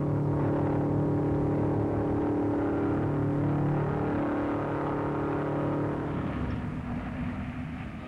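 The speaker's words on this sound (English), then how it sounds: "They are all falling beneath the whirling wheels of this speedy little car" A 1956 MG record car speeds across the Bonneville Salt Flats, its engine a steady, loud whirring drone with shifting harmonic tones, fading slightly toward the end as it runs on.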